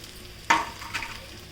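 Roasted varai (barnyard millet) and crushed peanut powder tipped into a frying pan, a single soft pouring rustle with a faint sizzle, followed by a lighter second scrape, then quiet.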